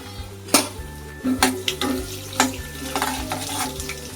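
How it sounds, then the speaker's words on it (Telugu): Cumin and tempering spices sizzle in hot oil in a kadai, the start of an ivy gourd chutney, with steady crackling frying broken by a few sharp spoon scrapes and clinks against the pan. "పోపులు కూడా వేసుకోవాలి"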